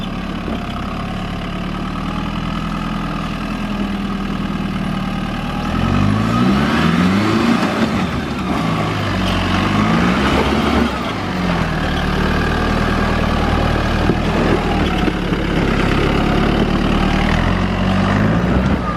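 A 4x4 off-road vehicle grinds up the rocky Dusties track at Yalwal, its engine idling low then revving in repeated surges as it climbs, steady and close throughout.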